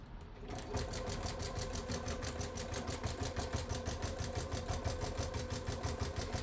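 Sewing machine stitching a bag gusset, starting up after a brief pause and then running steadily with a fast, even mechanical whir and rhythmic needle chatter, close and continuous.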